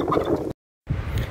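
Turkey gobbling in two loud bursts split by a short silence, the calls close and filling the clip with a harsh, rattling warble.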